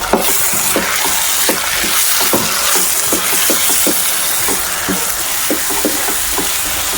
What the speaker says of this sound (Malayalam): അതിലേക്ക് നമുക്ക് അരച്ചു വെച്ച മസാല കൂട്ടിട്ട് കൊടുക്കാം